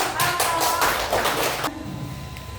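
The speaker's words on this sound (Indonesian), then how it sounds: "terima kasih tepuk tangan" A classroom audience at a talk on managing emotions claps in a quick, dense patter for about a second and a half, then the clapping cuts off abruptly, leaving a quiet room.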